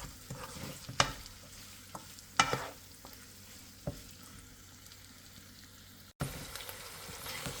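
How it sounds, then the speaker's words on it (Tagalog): Spam stir-fried in an oiled pan while making Singaporean fried rice: a low steady sizzle broken by sparse, sharp spatula clacks and scrapes, with a brief cutout near the end and no talking. "So guys, ito malapit na nating magisa ang spam"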